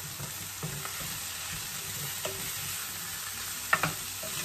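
Mushrooms, onions and red peppers are stir-fried over high heat with a faint, even sizzle, a low background hum, and a few scattered utensil taps and scrapes, including one sharper clink near the end.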